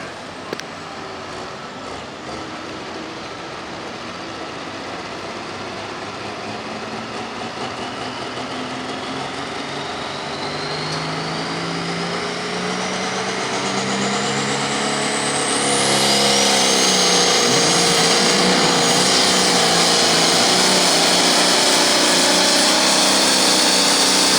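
A powerful tractor engine at a pulling competition in Paris, Missouri, roars continuously and builds steadily in pitch and loudness, revving higher as it strains under load in the 8,500 lb limited class.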